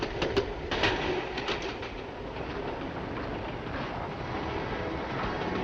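A diesel-hauled train of the early 1960s running on rails, a steady broadband rumble of wheels and engine with faint rhythmic clicks, continuous and fairly loud throughout.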